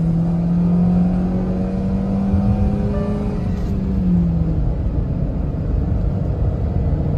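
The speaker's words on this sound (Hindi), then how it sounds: "वो एक्सेलरेटर मैंने इसमें प्रेस कर रखा है, हल्का सा इसमें मेरा हैंड ब्रेकिंग है" A Hyundai Exter AMT car's engine revs at a drag race start with the accelerator held down and the handbrake lightly applied, giving a loud, continuous drone whose pitch climbs gently and then holds steady throughout.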